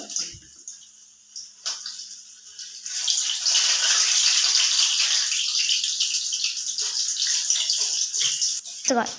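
Potato chips frying in heating oil, a steady loud bubbling sizzle that swells after a quieter start and holds to the end, with faint clatter and a brief voice.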